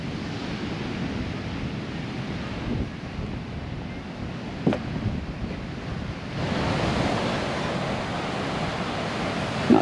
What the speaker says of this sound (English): Big waves out there for here. Rough surf today